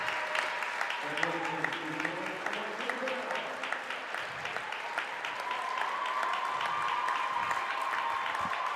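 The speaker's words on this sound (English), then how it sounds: "Yeah, the applause well-deserved here." Crowd applause at a high school basketball game between La Salle College High School and Roman Catholic, steady clapping throughout with a commentator's voice over it at the start.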